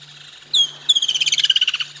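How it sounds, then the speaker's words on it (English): A woodland kingfisher calls loudly and close by on an afternoon safari drive: one sharp opening note, then a rapid, evenly pulsed descending trill lasting about a second, over a faint low engine hum. "Oh, loud woodlands kingfisher."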